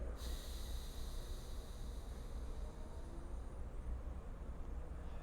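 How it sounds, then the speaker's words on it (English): During alternate nostril breathing, one long, steady exhale streams out through the right nostril as a soft, close airy hiss that lasts several seconds, with no talking over it. "exhale through the right."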